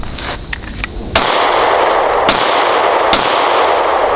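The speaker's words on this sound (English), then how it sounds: "I will just shoot like 3 rounds" A Canik MC9 9mm pistol fires a few sharp, loud shots close by, with the sudden reports spaced about a second apart and followed by ringing, reverberant decay between them.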